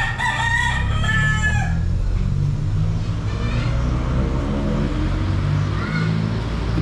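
A rooster crows loudly nearby over a constant low engine rumble, followed by fainter clucking and distant crowing from other birds.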